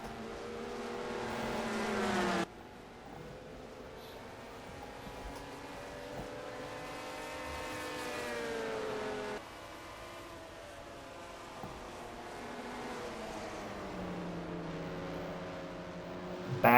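Stock cars racing through a turn in a NASCAR racing game, engines droning steadily with rising and falling whine as they pass, a sharp pitch drop where the sound cuts, continuous and fairly near.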